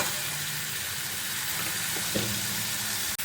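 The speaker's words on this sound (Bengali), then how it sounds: "এটা আরও কিছুক্ষণ কষিয়ে নেব" Continuous hiss and soft sizzle of masala being sautéed in a pan for Bengali katla kaliya, a steady close wash of frying noise with a few faint clicks.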